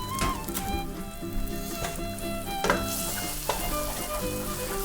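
Three eggs cooking with chorizo in a pan, a steady close sizzle and crackle with occasional spatula stirs and scrapes, no voices, under a faint background music bed.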